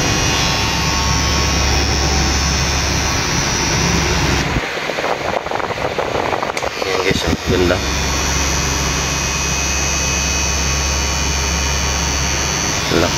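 A HIENA S-11 detailer hair trimmer motor runs with a steady, loud, close electric whine and hum that briefly cuts out midway and then resumes, while a voice speaks a word.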